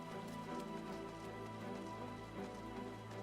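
Steady rain falls over the Crystarium in Final Fantasy XIV, a soft continuous hiss of drops on surfaces, faint and even, with no talking.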